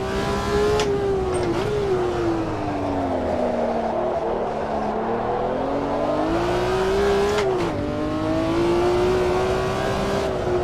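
BMW M1 Procar racing at Interlagos in the game Automobilista 2, its engine revving hard and loud with pitch rising and dipping through gear changes and throttle blips, with no talk.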